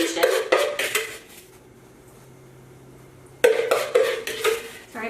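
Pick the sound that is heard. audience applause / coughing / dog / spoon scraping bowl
spoon scraping bowl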